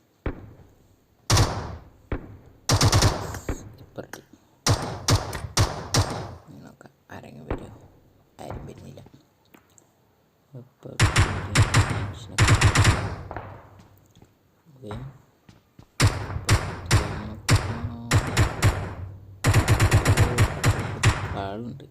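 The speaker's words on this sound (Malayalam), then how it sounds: "വെടി വെക്കുന്ന സൗണ്ടൊക്കെ കേൾക്കുന്നുണ്ട്" Gunfire in the PUBG Mobile video game comes in repeated loud bursts of rapid automatic shots, separated by brief quiet gaps.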